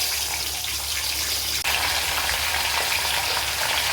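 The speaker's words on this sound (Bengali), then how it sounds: "এই তেলেতে সবার আগে আমি ভেজে নেবো মাছের মাথাগুলো" Fish heads frying in hot oil in a wok, a steady loud sizzle and crackle filling the whole stretch, with a brief clink partway through.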